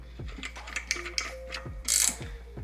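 Ratchet wrench tightening a bolt on a Park Tool 10.3 bike repair stand, a run of quick clicking strokes close up, with a brief sharp metallic scrape near the end.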